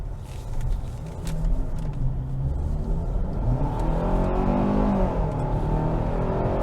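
A 2022 Hyundai Tucson Limited AWD crossover with a 187-horsepower engine accelerates hard, its engine note a steady, close, building drone with road and tire roar throughout and no talking.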